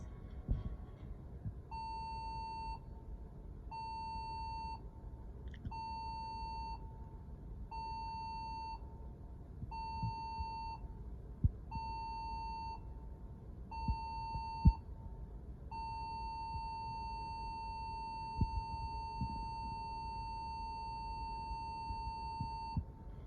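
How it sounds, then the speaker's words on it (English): A ship's general alarm sounds seven short electronic blasts in an even rhythm, then one long sustained blast, heard alone over faint background noise. "you will hear the general alarm, which is 7 short blasts, followed by 1 long blast"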